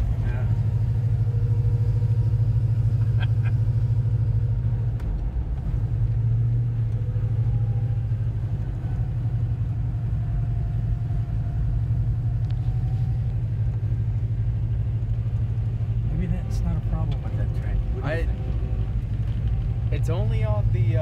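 A 1967 Pontiac GTO engine on deceleration gives a steady, loud low rumble from inside the moving car, continuous throughout, with faint higher mechanical whines and brief voices near the end.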